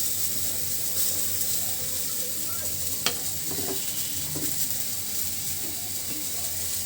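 Onion frying in a wok, being stirred on a village kitchen fire, with a steady close sizzle and occasional scraping and clinking of the utensil.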